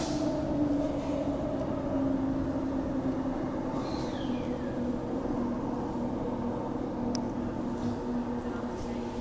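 Transperth A-series electric train running, a steady loud rumble of motor and wheels with a sustained low drone throughout, a brief high squeal midway, and a sharp bump right at the end.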